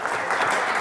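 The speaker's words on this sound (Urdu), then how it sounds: "تالیاں نہیں رکنی چاہیے جی" A studio audience claps in a brief, steady burst of applause on a TV show set, heard close and dense.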